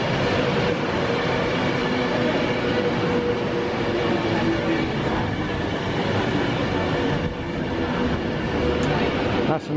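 A London and North Western area Avanti train passes close by, a broad steady rumble of wheels and rail noise holding loud and unbroken throughout, with a faint tonal whine running under it.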